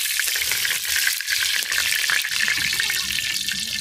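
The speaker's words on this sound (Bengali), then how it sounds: "আবার সরিষার তেল দিয়ে দিচ্ছি" Mustard oil sizzling in a hot pan, a loud, dense, crackling hiss that runs unbroken and close for the whole stretch, with no talking.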